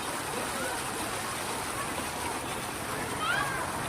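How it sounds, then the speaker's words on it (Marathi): Water falls continuously in a garden fountain, giving a steady, even splashing hiss that stays at the same level throughout, with a faint voice present. "बघा पूर्ण असं पाणी पडतंय"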